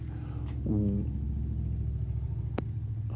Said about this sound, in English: that was a loud truck just drove by